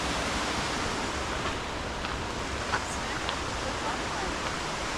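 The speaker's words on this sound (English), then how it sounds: "Little baby waterfall over here." Small waterfall at Shannon Falls in Squamish, a steady broadband rush of falling water that stays constant throughout, with faint bits of voice barely rising above it.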